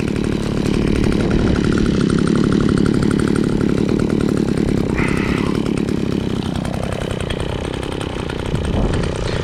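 An engine-driven brush cutter runs continuously at high revs while cutting grass at a house site in Japan, loud and close, a buzzing two-stroke drone that wavers slightly in pitch with no talking.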